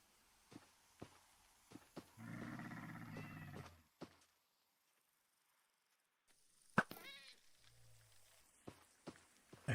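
A cat in Minecraft gives a short meow among soft footstep taps, followed by a quiet gap and then a few more blocky game sounds.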